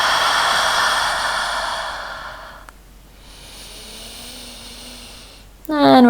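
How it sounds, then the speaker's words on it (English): Deep breathing during a yoga twist: a long, airy exhale fades out, followed by a softer, drawn-out inhale, close and unhurried. "Take a couple of nice deep breaths here."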